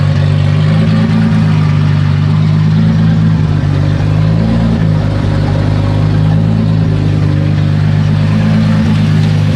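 A 1000 hp Formula Drift car with a nitrous-fed 2JZ engine runs loudly and close, holding a steady, deep, rumbling idle throughout.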